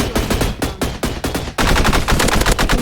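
Rapid automatic gunfire from the Roblox shooter game Energy Assault, loud and close: spaced bursts for the first second and a half, then a denser continuous volley to the end, with no talk.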